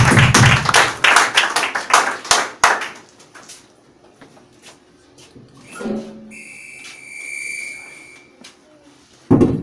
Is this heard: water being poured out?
no